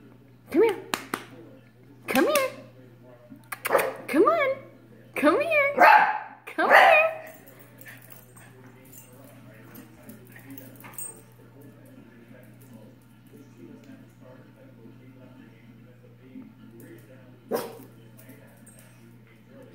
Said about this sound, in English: I have never seen a dog freak out over a pumpkin.